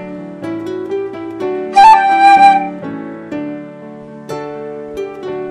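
A short melodic passage on a keyboard-like instrument with an upper mordent ornament, a single quick flick to the next higher note and back, set among steady held notes with no talking.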